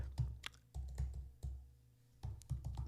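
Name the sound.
typing on a computer keyboard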